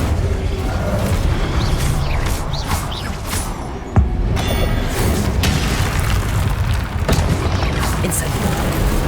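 Incendio fire spell cast in Hogwarts Legacy, sharp bursts and whooshing booms over battle noise with one stronger hit in the middle, loud and dense throughout.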